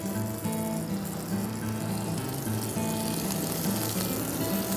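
Calamari strips sizzle steadily in a hot pan, a close, continuous crackling fry with a faint humming tone underneath and no talking.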